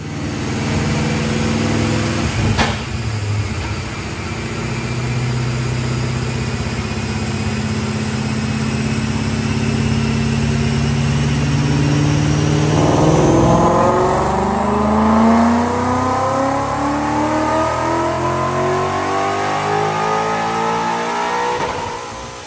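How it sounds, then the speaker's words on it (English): A supercharged 2014 Mustang GT fitted with a Vortech V3 blower runs a pull on a DynoJet chassis dyno on 93 octane: a loud, steady engine drone that swells into a long climbing rev, pitch rising steadily to the end, with no talk. "Check out this dyno pull."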